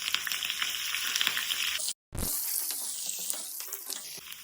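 Green chillies and curry leaves crackling in hot tempering oil for chitranna lemon rice, a bright continuous sizzle broken by one brief silent cut, then resuming with sputtering pops.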